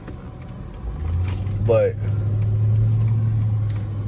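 A Chrysler 300C engine hums low and steady from inside the car while driving, with a brief voice over it and a rising drone that settles into an even cruise.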